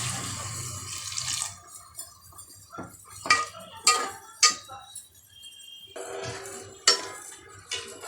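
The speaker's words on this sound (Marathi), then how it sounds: "याच्यामध्ये आता आपण पाणी टाकून घेऊया." Water is poured into dal in a cooking pot, a brief splashing pour followed by several sharp metallic clinks of a vessel and spoon against the pot, close and moderately loud with no talk.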